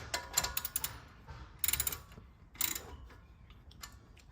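A ratchet wrench loosening the bolt on the rear brake caliper of a 2016 Chevy Traverse, heard as close bursts of quick metallic clicking separated by short pauses.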